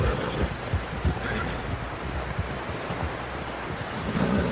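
Horse hooves clopping and snorting over a low, windy rumble, a steady mid-distance presence with scattered thuds throughout, from the video game Red Dead Redemption 2.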